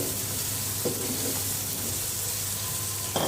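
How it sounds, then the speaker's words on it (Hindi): Okra frying in a pan with chopped green chillies and a little lemon juice, giving a continuous close, loud hiss and sizzle with a couple of faint stirring knocks. "ये जो ग्रीन मैंने काटी हुई थी मिर्ची, ये भी डालनी है। इसको फ्राई करके अच्छे से।"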